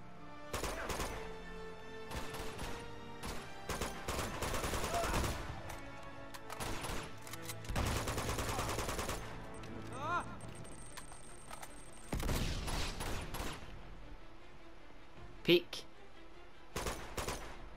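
Pistol gunfire in Uncharted 2, a series of sharp shots in bursts and separate cracks amid combat noise, with someone talking at times.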